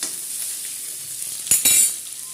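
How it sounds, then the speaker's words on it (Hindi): Onions fry in hot oil with a steady, close sizzle, broken by a couple of louder hissing bursts near the end as they are stirred, no voices. "तो चलिए प्याज को ऐड कर लेते हैं और प्याज को हम गोल्डन ब्राउन होने तक नहीं भूनेंगे फ्रेंड्स"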